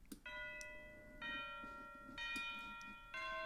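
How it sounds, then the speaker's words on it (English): Four orchestral tubular bell strikes ring out one after another, each tone sustaining with a soft, spacious reverberant tail. "Let's go to a part with more tubular bells."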